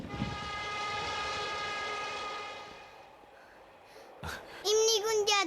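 Pyongyang subway train in a North Korean TV drama, a steady rumbling run with tonal whine that fades out, followed by brief voices of children and adults talking.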